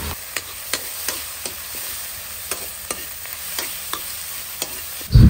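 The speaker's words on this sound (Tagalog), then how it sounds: "At ginigisa ko nga ng mabuti itong kamatis guys kasi medyo green pa kasi ito" Green, somewhat crisp tomatoes sautéed in a pan with a steady close sizzle and a regular series of sharp scrapes from stirring, ending in a louder clatter.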